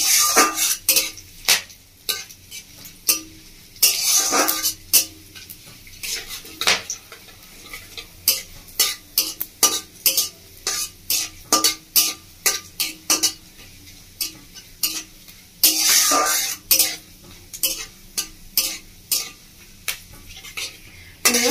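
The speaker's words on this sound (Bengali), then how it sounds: "তো এটা আমি তেলের মধ্যে দিয়ে দেবো। ফোড়নটাকে একটু ভালো করে ভেজে নেবো।" Whole spices with chilli, dried fenugreek leaves and a pinch of sugar frying in oil in a pan while being stirred, with a soft sizzle under repeated sharp scrapes and clinks of a utensil throughout, close and fairly loud.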